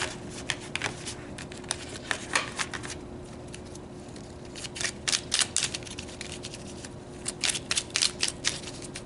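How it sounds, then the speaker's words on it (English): Tarot cards being shuffled and pulled, with crisp bursts of riffling and flicking close up, coming in irregular clusters over a soft steady hiss. "let's pull a couple of cards for advice or extra messages"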